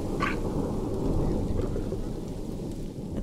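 Rain and rolling thunder in the video game Planet Zoo during a rainy spell at a zoo with lions and peafowl: a deep, continuous rumble beneath steady rainfall, loud and sustained, with no talk.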